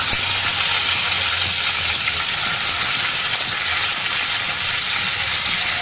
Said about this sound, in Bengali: মাছটা ভাজতে দিয়েছি